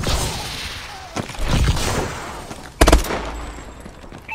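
Gunfire in Call of Duty Advanced Warfare: bursts of rapid shots, with a loud, sharp volley near the end, over steady game background noise.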